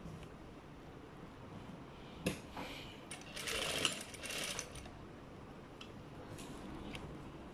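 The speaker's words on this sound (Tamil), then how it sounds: "இப்போ தைக்க போகிறேன்." A sewing machine stitches a fabric pinafore in a few short whirring bursts midway through, separated by quiet handling clicks, with no voices.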